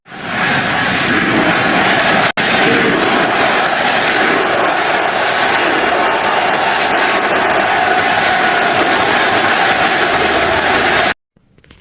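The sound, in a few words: stadium crowd cheering and chanting USA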